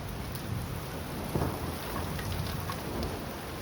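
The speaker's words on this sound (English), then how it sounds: "You hear the thunder, guys?" Thunder rumbling through a severe thunderstorm in the northeastern US, low rolling booms under steady rain and wind noise, with no voices.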